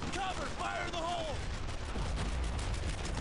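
Rifles and machine guns fire in bursts during a World War II shooter, Brothers in Arms: Earned in Blood, a dense rattle of shots under soldiers shouting commands in the game.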